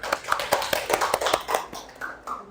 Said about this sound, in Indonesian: kasih tepuk tangan untuk kelompok 3 yang sudah menjawab dengan benar